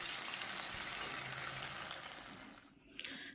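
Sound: two tomatoes frying in a pan for dal

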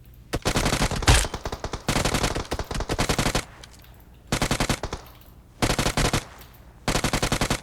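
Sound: UMP submachine gun firing in a video game

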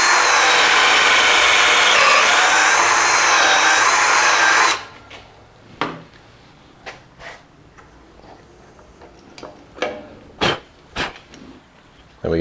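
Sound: power drill boring pocket holes in 2x4 with jig bit

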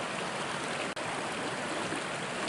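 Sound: calm river flowing by the bank

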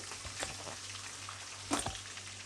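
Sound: curry leaves and green chillies frying in oil

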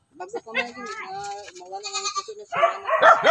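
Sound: goats bleating, newborn kids

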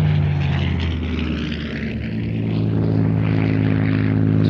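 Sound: Supermarine Spitfire aircraft at a public flying display

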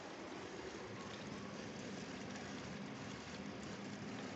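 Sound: Galanz dishwasher filling with water

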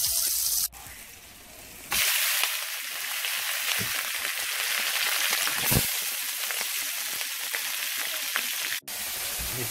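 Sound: potatoes with green onion pan frying in canola oil

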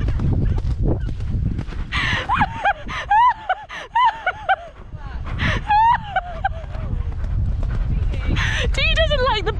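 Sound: pony hooves cantering, horse riding

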